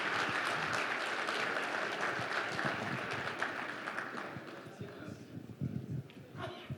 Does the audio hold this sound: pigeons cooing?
no